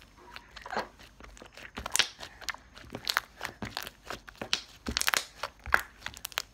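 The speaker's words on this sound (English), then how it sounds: "let's listen to the crunches of this." Crunchy slime is stretched and squeezed close up, giving a dense run of quiet crackling pops and crisp crunches in irregular bursts, with no voices.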